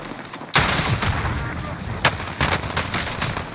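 Call of Duty Warzone gunfire from a 725 shotgun and an RPG: a sudden loud blast followed by a rapid string of sharp close shots and bangs, with faint voices mixed in.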